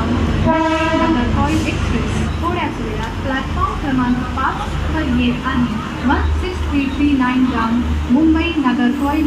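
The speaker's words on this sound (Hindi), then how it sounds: "16339 Mumbai नगरकोइल express is arriving shortly on platform number 5" The 16339 Mumbai-Nagercoil express, hauled by a WDP4D diesel locomotive, arrives at Dadar station: a loud, steady rumble of engine and rolling wagons with a horn blast early on, under a platform announcement.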